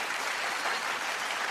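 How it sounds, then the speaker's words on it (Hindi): Dense, steady applause from an audience at a live comedy show honoring Jagjit Singh, an even wash of clapping throughout the short moment with no voices. "मैं चाहता हूं कि जगजीत जी के लिए जोरदार तालियां हो जाएं एक बार।"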